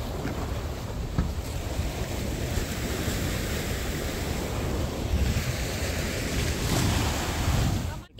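Sea waves wash and roll continuously nearby in Istanbul, mixed with gusty wind buffeting the microphone.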